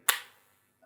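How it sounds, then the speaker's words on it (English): A magnetic, woody-topped cap on an Al Haramain Oudh 36 Nuit perfume bottle snaps shut with one sharp, close click that fades fast, followed by a faint tap near the end. "This one is magnetic, so if you go like this, it is going to click"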